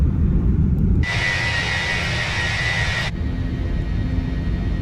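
The Fenix A320 in Microsoft Flight Simulator 2020 spools its engines to TOGA thrust for a go-around, producing a loud, steady jet roar and whine that lasts about two seconds over a constant low cockpit rumble.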